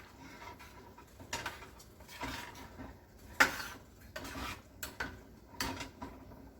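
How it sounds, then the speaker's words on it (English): Beans stirred in a cooking pot produce quiet, irregular scraping and wet clinking of a spoon against the pot, with a few sharper knocks, faint and close. "Now, we're going to stir this up."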